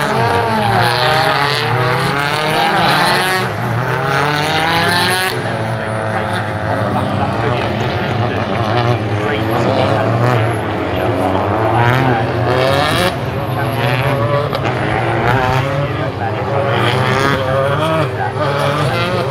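BTCC touring cars racing at Thruxton, their engines roaring loudly and continuously with rising and falling pitch as they pass, a dense steady wall of motor noise throughout.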